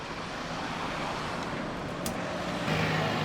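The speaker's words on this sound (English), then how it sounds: "seeing a lot of cars pass me by while I was holding my thumb up" Cars passing on a roadside in Romania, a steady wash of traffic noise with one vehicle swelling slightly louder near the end, fairly distant and without voices.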